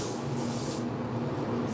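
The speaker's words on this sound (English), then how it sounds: "Spray a little bit." Dollar Tree disinfectant spray hisses from an aerosol can in short bursts, a bright airy spray sound recurring several times over a low background rumble.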